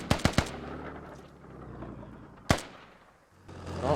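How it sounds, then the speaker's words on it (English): Gunfire trades back and forth in the video game Squad: a quick burst of three sharp shots, a pause with low rumble, then a single loud crack and more distant activity. "Oh, trading shots."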